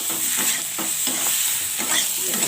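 Morola fish curry with potato, eggplant, pointed gourd, jaggery and raw sweet mango is stir-fried in a pan, with loud, close sizzling and rhythmic scraping stirs repeating every half second.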